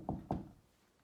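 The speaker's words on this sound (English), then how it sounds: "And she knocked on the door." Two firm knocks on a wooden door, evenly spaced and close, followed by quiet with no talking.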